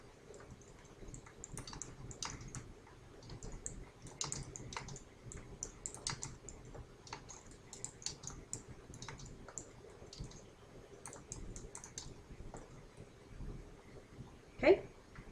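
Order form data goes into Excel cells on a computer keyboard, heard as faint, irregular key clicks in quick clusters with a sharper tap near the end, under a quiet voice.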